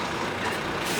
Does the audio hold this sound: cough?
no